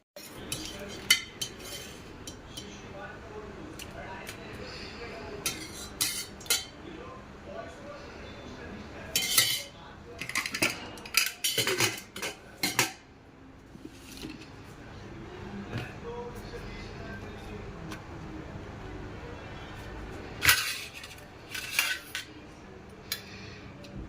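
Food being dished onto plates at home brings intermittent clinks of spoons against dishes and pans in scattered bursts, with someone talking in between.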